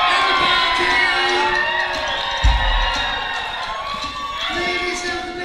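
Audience at a concert cheering, whooping and shouting in a sustained roar, with a brief low thump midway and a fresh swell of cheers near the end.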